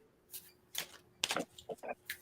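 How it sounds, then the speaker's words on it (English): Tarot cards are shuffled in short, papery riffling bursts, several quick rustles and flicks at moderate loudness with brief pauses between, during a live psychic reading. "Shuffle, shuffle, shuffle."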